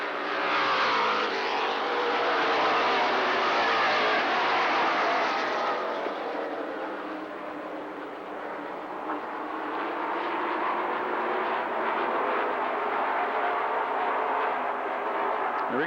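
Mid American stock cars race around LaCrosse Speedway in West Salem, Wisconsin, a continuous loud engine roar from the pack that swells, dips slightly midway as the cars pass, then builds again.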